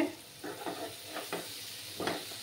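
Potato and tengra fish curry masala sautéing in a pan, a steady low sizzle with a series of soft scraping stirs from a spatula at irregular intervals, close by.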